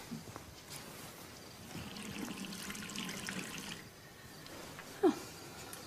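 Water poured from a tap into a glass in a domestic kitchen, a steady rushing stream that builds and then cuts off, followed by a brief clink, heard fairly close in a quiet room.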